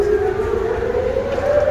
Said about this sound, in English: Another siren.